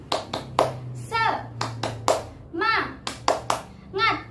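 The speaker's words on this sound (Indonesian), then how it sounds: "bagaimana kalau kita tepuk semangat terlebih dahulu?" Second-grade children in a classroom doing a rhythmic spirit clap, sharp group claps in short patterned bursts alternating with children's chanted voices.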